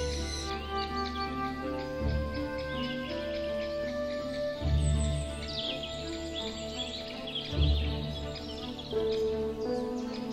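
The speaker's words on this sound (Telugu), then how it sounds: "దగ్గర నుంచి పక్షులను చూడవచ్చు." Birds chirp and call at a bird park in Pelling, Sikkim, with soft scattered tweets over a steady low background hum and occasional louder rumbles, no voices.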